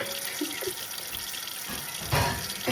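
Dishes washed under a running kitchen tap: a steady, fairly quiet stream of water with light clinks and a brief louder splash of scrubbing near the end.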